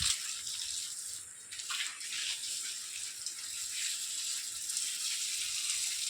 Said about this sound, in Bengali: জল মারো, বুঝলে, সুন্দর করে ফোর্স দিয়ে জল মারো।